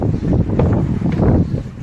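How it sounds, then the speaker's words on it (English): Strong wind buffets the microphone with heavy low rumbling gusts, loud and continuous. "just so windy."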